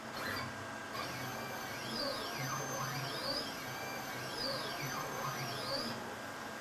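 A Langmuir Systems Crossfire Pro CNC plasma table moves its gantry on a dry run, with a steady motor hum under repeated rising and falling stepper-motor whines.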